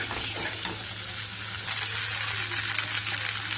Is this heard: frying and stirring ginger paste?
yes